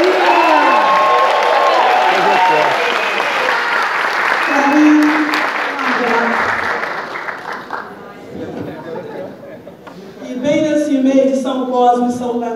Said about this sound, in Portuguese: vamos levantar também agora uma salva de palmas para a Clarinha!